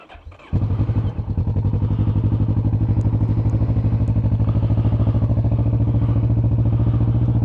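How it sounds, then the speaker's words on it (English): A Kawasaki motorcycle engine starts up early in the morning: a short cranking whir, then the motor catches and settles into a loud, steady, fast-pulsing idle close by, alone without talk. "I'm just starting the bike up now."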